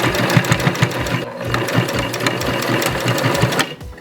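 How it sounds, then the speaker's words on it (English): A sewing machine runs a straight stitch while joining fabric pieces for a baby head wrap, its needle hammering in a fast, steady rhythm with brief pauses, close and loud with no talking. "let's go to the sewing machine, and we're going to pin these 2 top pieces together"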